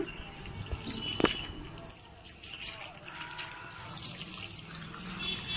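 Water runs and trickles while brinjal and chilli nursery seedlings are watered in a terrace garden, a soft continuous flow with one brief splash early on.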